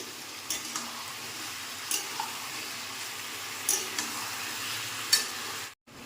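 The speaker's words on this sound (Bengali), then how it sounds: "সবজির সাথেই আমি আদা রসুন পেঁয়াজ আমি সব কষিয়ে" Ginger, garlic and onion sauté with vegetables for chorchori in a pan, a soft, steady sizzle broken by occasional spatula scrapes and taps, fairly faint, ending abruptly.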